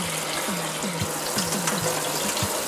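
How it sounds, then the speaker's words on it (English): Water pours from a tap through quinoa held in a fine mesh strainer, a steady close rushing stream with small irregular drips and splashes. "Really put the water in there, see if I can strain it as good as possible."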